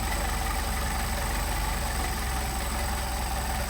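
A Mercedes-Benz 190SL engine on Solex 44PHH carburetors idles low and steady, a continuous near rumble with a faint uneven pulse and no other sounds.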